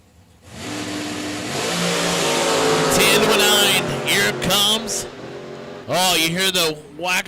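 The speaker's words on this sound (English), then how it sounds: "Oh, you hear the whack of the throttle" A drag racing car's engine whacks its throttle, building into a loud sustained revving roar while an announcer calls the race over it, with a second sharp engine burst near the end.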